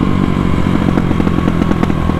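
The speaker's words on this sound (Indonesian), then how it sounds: "Biasa kalau ditahan gas gini dia backfire." A motorcycle exhaust pops and crackles with rapid irregular backfires while the throttle is held, over a loud steady engine rumble close by.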